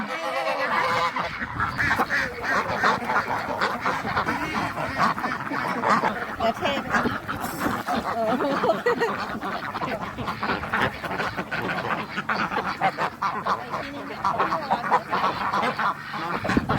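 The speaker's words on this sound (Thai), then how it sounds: "เป็ดไก่ทุกตัวเขารู้แล้วว่าเราจะมาให้อาหารเขาค่ะดูสิ โอ้โหร้องกันเต็ม" Ducks and chickens at a farm call loudly and continuously, a dense overlapping chorus of quacks, honks and clucks that fills the whole stretch without pause.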